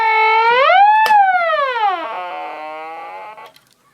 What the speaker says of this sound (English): Let's turn the audio generator on and see if we get any noise out of it.